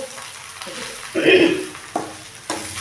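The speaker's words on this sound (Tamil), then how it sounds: "நல்லா இன்னும் கொஞ்சம் நேரம் கிண்டி விட்டு" Amla (small gooseberry) rice frying in oil in a pan, stirred several times, giving a steady crackling sizzle with a louder burst of scraping stir in the middle and a few sharper utensil scrapes after.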